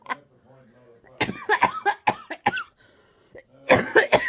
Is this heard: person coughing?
yes